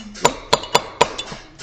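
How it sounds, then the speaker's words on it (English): Fruit being smashed in a cup with a spoon: four sharp, close knocks of the spoon against the cup at a steady pace, then a couple of softer taps. "that's what they call when you're smashing up fruit in a cup"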